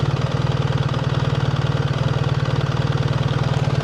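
A 2025 BMW R1300 GS with ASA idles close by on a snowy winter countryside road, its engine giving a steady, evenly pulsing low throb with fast regular beats throughout, alone with no talking.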